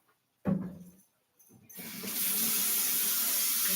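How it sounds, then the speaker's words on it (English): A spoon rinsed under a running kitchen tap: a brief clink and splash, a short pause, then a steady close rush of flowing water into the sink that continues to the end. "just going to rinse the spoon off"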